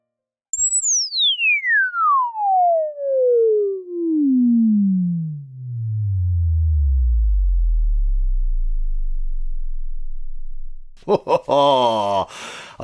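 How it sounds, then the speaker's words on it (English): A Minimoog Voyager synthesizer with resonance turned all the way up, its filter swept from a piercing whistle down to a deep rumbling tone over about ten seconds, loud and alone, before a short burst of talk. "plugged it in, and did a filter sweep. Let's just turn all these off. I just resonance on full."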